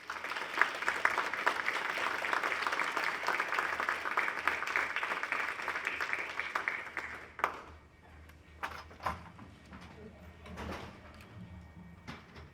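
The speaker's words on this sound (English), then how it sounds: "could we please give him a round of applause as he comes in?" Audience at a cannabis law conference keynote in Washington, D.C. claps steadily and fairly loudly for several seconds as the speaker enters, then the applause cuts off, leaving scattered thumps, shuffling and quiet room noise.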